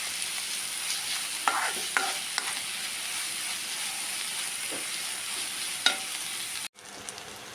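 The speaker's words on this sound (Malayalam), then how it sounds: "സവാള ഇട്ടൊന്ന് ഇളക്കി കൊടുക്കാം" Medium-sized sliced onions sautéing in oil for a chicken curry, sizzling steadily in a pan while a spoon stirs them with a few light scrapes and taps, then a sudden cut near the end.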